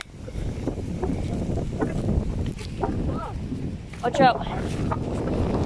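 Strong gusting wind during a 40 mph wind advisory buffets the microphone in a steady, loud roar, with a person speaking briefly over it.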